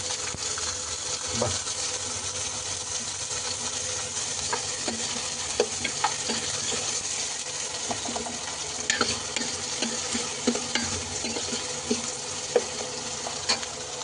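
Chopped onions frying in oil in a pan for mushroom masala, giving a continuous low sizzle with scattered scrapes and clicks of stirring throughout.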